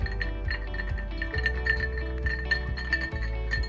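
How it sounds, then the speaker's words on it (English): Ice clinks and rattles against glass as a Negroni cocktail is stirred, a close, continuous series of light chimes and taps with no voices. "So give that a good stir."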